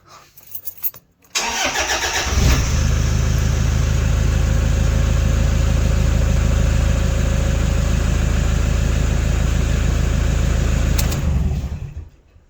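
A car engine starts after a boost from a TopDon jump starter pack and keeps running at a loud, steady idle close by, the cranking settling into a continuous rumble that lasts about ten seconds before cutting off.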